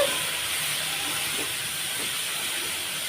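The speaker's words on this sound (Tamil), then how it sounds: "இப்போ இதை நல்லா வதக்கி விட்டுருக்கலாம்" Mint leaves sauté in a hot pan for a mint chutney, giving a loud, steady sizzling hiss that holds evenly throughout with no voices.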